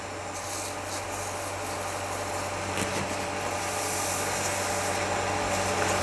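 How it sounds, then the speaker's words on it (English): Friction polish is burnished onto a lathe-turned wooden box, giving a continuous rubbing and hissing friction over the lathe's steady motor hum, close and even in level. "And now we'll apply friction polish to the bottom."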